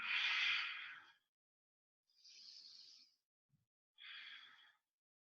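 Three slow, close breaths during a vinyasa yoga flow in a three-legged dog pose, each a soft airy exhale or inhale of about a second, separated by silent pauses.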